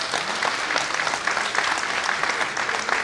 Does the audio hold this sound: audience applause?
yes